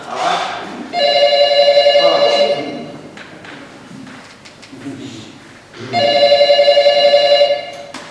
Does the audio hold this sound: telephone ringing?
yes